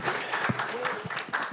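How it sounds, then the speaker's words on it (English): Applause from an audience at a launch event, broadband clapping that continues steadily through the clip with a voice mixed in underneath. "Round of applause to welcome him on stage"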